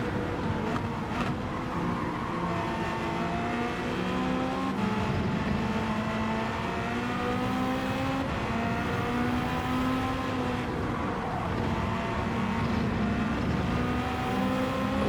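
Race car engine in Gran Turismo 7, a steady loud drone with rising and falling revs as the throttle lifts for turns and comes back on, continuous throughout without talk.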